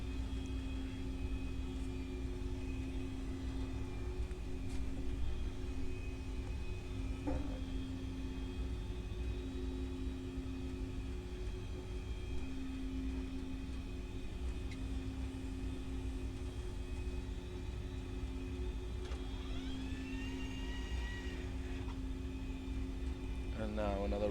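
Steady cabin drone aboard a Boeing 737-800 turning onto its approach to land at Newcastle, a low constant engine and airflow hum with a few faint clicks and a rising whine late on.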